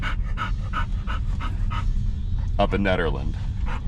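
Excited dogs pant rapidly inside a car, a steady rhythmic huffing close by, with a whimpering whine near the end while a person talks over them.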